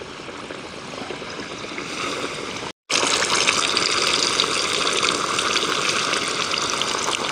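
Coated chicken pieces, leg and chest, dropped into hot oil for fried chicken, a loud continuous bubbling sizzle that breaks off briefly, then returns stronger and steady.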